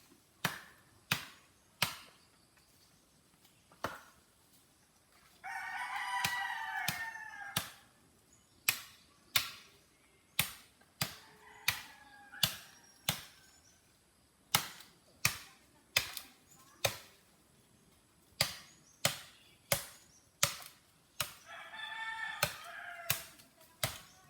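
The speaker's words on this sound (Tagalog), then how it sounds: "Dito puro manok lang madidinig mo." Roosters crow in short bursts at a rural home, with sharp repeated chopping or tapping knocks dominating throughout and crowing coming through in a couple of distinct stretches.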